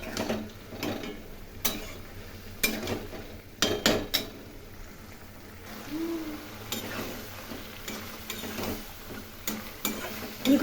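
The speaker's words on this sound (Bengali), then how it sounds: "সিদ্ধ হয়ে গেছে আলু এবং ফুলকপি, এখন একটু নেড়ে নামিয়ে নেব।" Spoon stirring boiled potato and cauliflower curry in a pan, with intermittent scrapes and sharp metallic clinks against the pan, spaced irregularly over a quiet background.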